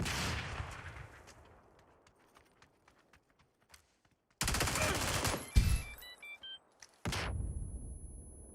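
Submachine-gun fire in the video game PUBG comes as loud, rapid sprays in a couple of sustained bursts that cut in abruptly. Quieter footstep-like game noise sits in between, along with some faint voice.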